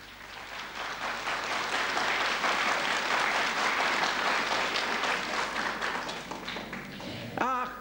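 Audience applause during a sermon, a dense, sustained wash of clapping filling most of the stretch at steady loudness, then thinning out near the end as a voice briefly cuts in.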